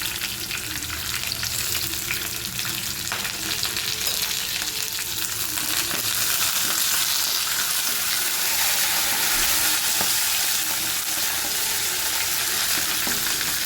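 Slit green chillies and curry leaves sauté in oil with a loud, dense, steady sizzle, the hiss swelling slightly in the second half, with occasional stirring scrapes.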